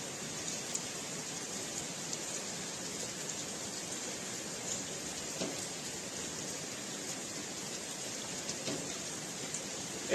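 Rain falls over a neighbourhood as a steady, unbroken hiss with faint scattered drop taps, soft and constant throughout with no voices.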